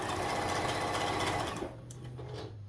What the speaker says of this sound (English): I am using a Juki DX7. I have it on a straight stitch.